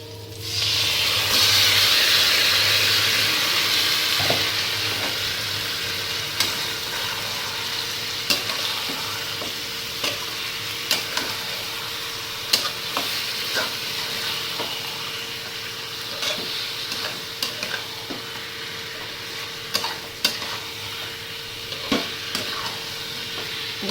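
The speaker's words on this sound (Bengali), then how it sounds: "পেঁয়াজ আর ইসেটা ভাজা ভাজা হয়ে গেছে বন্ধুরা চলো এবার ইসেটা দিয়ে দিচ্ছি চিকেনটা" Chicken sizzles with fried onions in a pan, a loud steady frying hiss broken by regular clicks and scrapes of stirring, with no voices.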